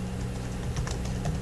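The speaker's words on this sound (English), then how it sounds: "how to write on an ordinary and Braille typewriter" Typewriter keys clatter in a quick, fairly steady run of light clicks for about a second and a half, close and moderately loud, with no voices over them.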